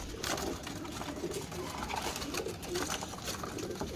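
Pigeons kept as fancy teddy breed birds coo softly in a loft, low murmuring calls repeating steadily against a busy background rustle, with no clear talk.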